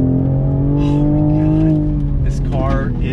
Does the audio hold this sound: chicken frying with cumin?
no